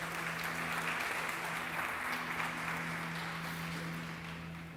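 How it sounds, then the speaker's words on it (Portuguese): Church congregation applauding together, a dense, sustained clapping that holds steady and begins to fade toward the end, with a faint music tone underneath. "Você pode aplaudir a Jesus por isso?"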